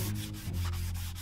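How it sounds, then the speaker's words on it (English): A sanding block with sandpaper scrapes in quick back-and-forth strokes across a car body during a build, a brief, soft, rhythmic rubbing heard up close over a low steady hum. "You want to let the block and your sandpaper do the work."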